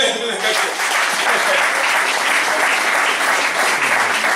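Congregation applauding in a church service, steady dense clapping sustained throughout at close range, with some voices mixed into the crowd.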